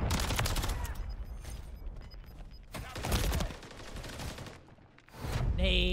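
Rapid bursts of gunfire and a grenade blast in an online shooter game, loud and dense with overlapping shots, a brief lull, then another heavy volley.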